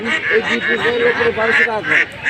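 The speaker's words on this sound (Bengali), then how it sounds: "এই যে এখানে দুই পিস হাঁস আনছে" Chinese ducks at a rural duck market in Naogaon, Mahadevpur, quack loudly and repeatedly up close, a dense overlapping chatter of calls amid market noise.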